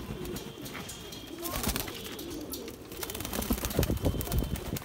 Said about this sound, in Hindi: लो जी एक और बांका कबूतर जी